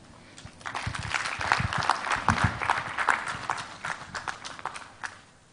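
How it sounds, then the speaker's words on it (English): An audience applauds at an MSME Day event in Abuja after a speech, a broad wash of clapping that swells and holds steadily for several seconds before easing off. "Let's appreciate her with another round of applause, please."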